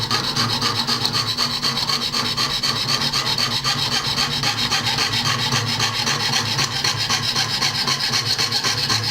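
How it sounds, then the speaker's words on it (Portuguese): A jeweler's saw cuts metal while the blade is turned through a curve, making a steady, continuous close-up rasp of rapid even strokes with no pauses and no talking. "virando e serrando"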